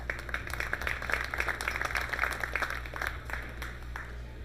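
Crowd applause at a World 10-Ball pool final, a dense, sustained patter of many hands clapping at moderate volume in an arena, easing slightly toward the end.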